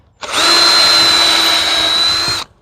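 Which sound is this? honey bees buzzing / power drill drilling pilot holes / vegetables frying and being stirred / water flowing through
power drill drilling pilot holes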